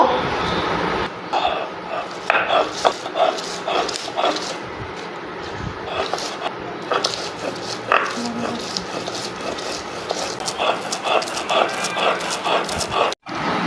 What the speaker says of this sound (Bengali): এখন আমি এগুলোকে পাটায় বেটে নিব প্রথমে আমি পেঁয়াজ মরিচ রসুনগুলো বেটে নিব